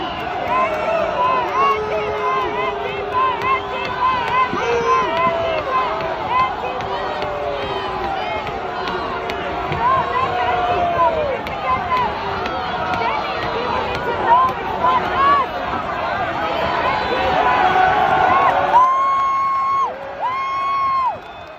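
A large crowd gathered at the Capitol riot cheers and shouts amid a constant roar of voices, with whoops rising over the din throughout and a louder burst near the end.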